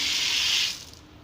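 Water running from a tap to water marigold plants, a bright steady splashing hiss for about half a second that then stops abruptly.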